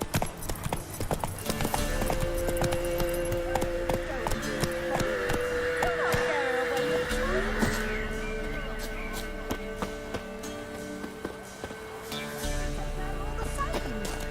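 Hooves of Roach, Geralt's horse in The Witcher 3, clip-clop in a steady galloping rhythm close by, with game ambience and scattered voices around.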